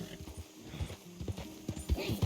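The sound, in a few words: horse hooves and whinny in the video game Red Dead Redemption 2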